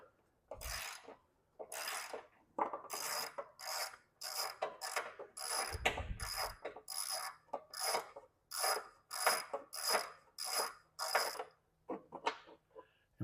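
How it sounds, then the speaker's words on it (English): Ratchet with a 10 mm socket removing the spindle cover bolts on a Cub Cadet Ultima ZT1 54-inch zero-turn mower, giving a steady series of about fifteen close, crisp clicking bursts with no talk. "grab you a 10 millimeter socket and a ratchet and take all these off"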